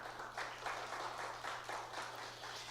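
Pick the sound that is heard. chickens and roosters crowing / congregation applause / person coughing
congregation applause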